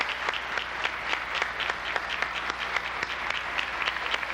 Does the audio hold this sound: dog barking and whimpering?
no